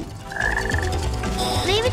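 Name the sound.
frog croaking in the video game Sonic Heroes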